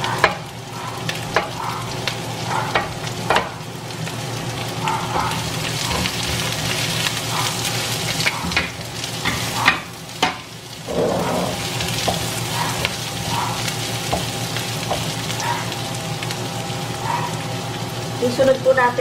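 Sayote stir-fried with grated ginger in a pan, a steady close sizzle broken by scraping stirs throughout, with a voice talking over the cooking.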